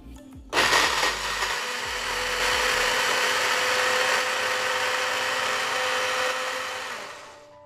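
Kitchen blender grinding ingredients with a little water: a loud, steady whirring roar kicks in sharply after a brief pause and runs continuously, easing off slightly at the very end, with no talk.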